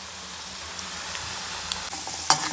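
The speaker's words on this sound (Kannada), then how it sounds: "ಫ್ಲೇಮ್ ಕಡಿಮೆ ಮಾಡಿ ಫ್ರೈ ಮಾಡ್ಕೊಳ್ಳಿ ಗೋಲ್ಡನ್ ಕಲರ್ ಆಗೋ ತನಕ ಫ್ರೈ ಮಾಡ್ಕೊಬೇಕಾಗುತ್ತೆ" Potato French fries bubble in hot oil over a lowered flame, giving a soft, even hiss with a few faint clicks and a brief louder clatter near the end, fairly quiet throughout.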